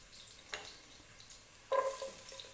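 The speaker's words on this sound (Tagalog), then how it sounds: "Hihintayin lang natin sandaling pumula yung ating luya." Ginger sautés in a pan in a Filipino tuna in coconut dish, a quiet sizzle with two short bursts of stirring scrapes.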